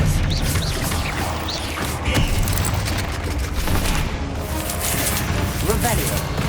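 A spell being cast in the wizarding video game Hogwarts Legacy, a dense, loud stream of booming, crackling magical blasts and impacts with a few sharp bursts, carrying on without pause under spoken voices.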